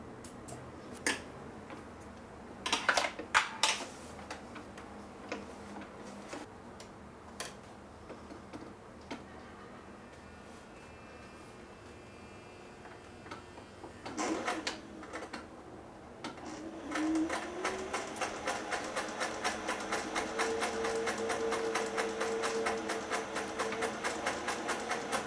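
A Singer 401A sewing machine is handled with a few scattered clicks and taps, then starts up and sews, giving a fast, even mechanical rattle with a steady whirring hum that carries on smoothly to the end.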